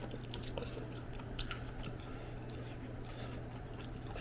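Quiet chewing and biting of delivered malatang, a spicy Korean-Chinese hot pot, with soft crunchy and wet mouth sounds over a low steady hum, no talk.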